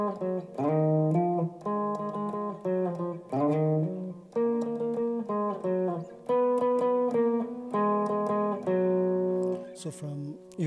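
An electric lead guitar played through overdrive with slight reverb and delay plays a melodic line of sustained, singing notes with slides between them, loud and close, with no talking.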